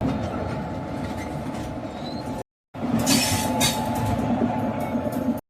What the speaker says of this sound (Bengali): ট্রেনটি এখন ধীরগতিতে তমলুকের দিকে যাচ্ছে